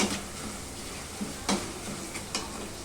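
Garlic and lentils quietly frying in a pan, a soft steady sizzle broken by a few faint clicks and stirring taps, no voices.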